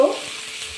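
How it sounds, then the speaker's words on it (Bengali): Chopped onion and green chili hit hot oil in a wok, giving a soft hiss of sizzling with a brief stirring scrape at the start, fading to a quiet steady fry. "তেলের মধ্যে দিয়ে দিচ্ছি 100 গ্রাম পেঁয়াজ কেটে রেখেছিলাম, 2 টেবিল চামচ লঙ্কা কুচি"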